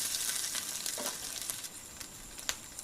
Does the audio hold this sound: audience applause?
no